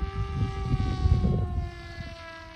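An RC flying wing's electric motor runs near full throttle on a 3S battery, a close, steady high-pitched whine that sags slightly in pitch partway through, with buzzy rumbling underneath.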